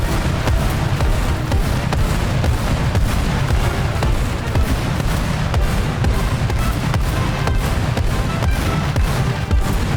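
Calliope rocket launcher firing salvos in a video game battle against German ground vehicles: a dense, continuous barrage of launches and booming impacts, loud and rumbling throughout without pause.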